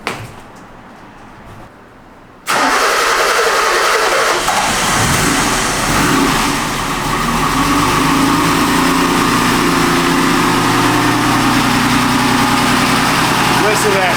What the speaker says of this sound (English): Listen to that. Start up first time.